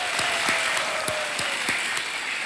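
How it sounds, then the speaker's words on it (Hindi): Studio audience applauding continuously on the set of the Hindi quiz show Kaun Banega Crorepati, a steady dense wash of clapping with a faint tone running underneath. "तालियां बजते रहें देवियों सज्जनों"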